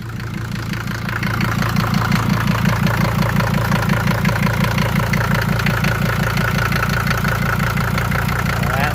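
A Mercedes OM617/616 diesel engine idles steadily after fuel injector return line and fuel filter work, with a close, even clatter that grows slightly louder and keeps a regular rhythm throughout.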